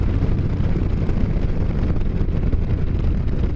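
Wind buffets the microphone during a motorcycle ride on a country road, a loud continuous low rumble and roar that masks everything else for the whole stretch.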